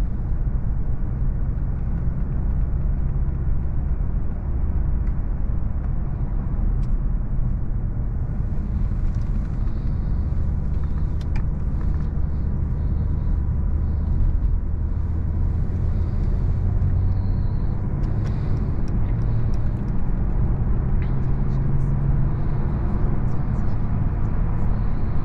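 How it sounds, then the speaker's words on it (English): A Mercedes S400d 4MATIC diesel sedan cruises at speed on the Autobahn at night, heard from inside as a steady, loud low rumble of road and wind noise with no change in pace. "let's jump straight into the driver's seat and take it on the Autobahn"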